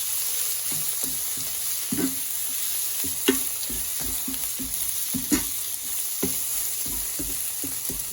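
Taiwanese basil chicken stir-fry cooking in a pan: a loud, constant sizzle with a rhythmic run of spatula scrapes and taps throughout, close by and with no voices.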